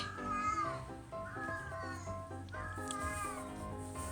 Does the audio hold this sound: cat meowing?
yes